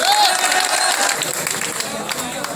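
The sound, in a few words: audience applause for the new village president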